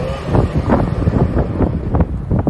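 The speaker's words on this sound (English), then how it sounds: "It's still windy out here." Strong gusts of high wind buffet the microphone outdoors during a storm, loud and rumbling in uneven surges with no voices.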